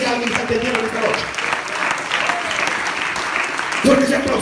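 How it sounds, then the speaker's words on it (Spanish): A church congregation clapping during an evening service, a crowd's applause rising and falling beneath a preacher's voice that speaks over it at the start and end. "Dale el aplauso."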